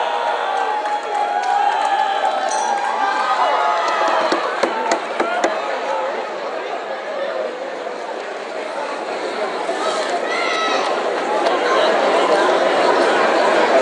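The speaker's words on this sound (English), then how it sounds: "the crowd is going up again for Bravo" A crowd at a middleweight amateur fight cheers and chatters steadily, a dense wash of voices that swells near the end, with commentators talking over it.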